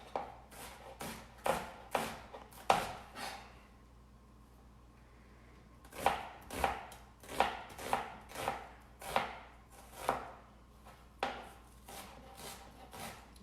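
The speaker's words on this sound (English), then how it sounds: "The many methodologies of chopping an onion." A knife chops an onion on a board in quick bursts of sharp, rhythmic taps, pausing briefly before another run of steady cuts, close and clear.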